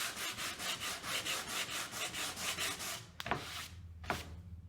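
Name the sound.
sanding wood for a rustic weathered sign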